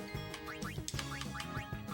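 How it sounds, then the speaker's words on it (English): Repeated duck quacks in short bursts over steady background music during Final Fantasy X play, fairly faint and mixed in with the game sound. "Oh my god, ducks!"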